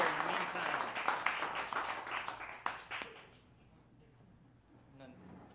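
Audience at a live folk band show at Caffe Lena clapping and applauding for about three seconds, dense and close, then fading into quiet room murmur with a few scattered claps.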